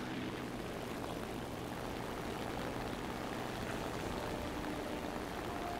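E13 recon floatplanes launch aboard a Mogami cruiser in a naval warfare game. Their propeller engines make a steady, mid-distance drone with a soft, continuous whoosh and no voices.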